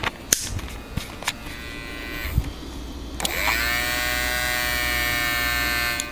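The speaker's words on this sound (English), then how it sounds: "That to me indicates a dying floppy drive" A few clicks and clunks give way to a steady mechanical whir and hum from a dying floppy disk drive motor spinning up in a Toshiba Satellite T2130CS laptop, close and continuous.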